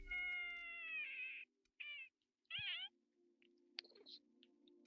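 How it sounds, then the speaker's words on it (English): A cat meows several times up close, a long drawn-out call followed by shorter rising and falling meows, with quiet gaps and a faint hum between them. "Yeah, I heard meowing."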